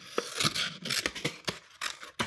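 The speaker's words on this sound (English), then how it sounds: "get those scissors and cut." Scissors snip through paper in a quick series of close, crisp cuts, about eight in two seconds, with no talking.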